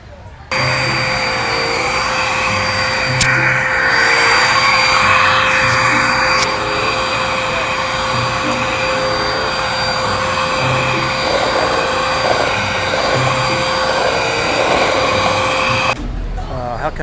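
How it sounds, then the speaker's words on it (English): A vacuum cleaner runs steadily outdoors on park grass, a loud continuous drone with a whining hum that holds from start to finish, and people talk over it throughout. "How come you're vacuuming?"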